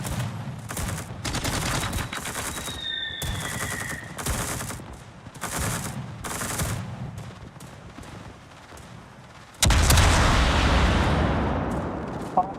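Warship secondary guns firing in World of Warships, a series of rhythmic booming shots at regular intervals, followed by a louder, broad blast near the end.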